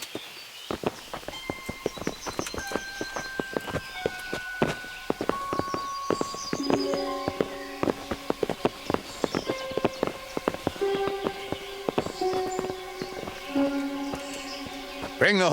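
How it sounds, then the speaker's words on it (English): Horses clip-clopping in the medieval video game Kingdom Come: Deliverance, a steady run of hoof knocks under a busy game soundtrack with sustained musical tones and occasional spoken lines. "Bring the horses."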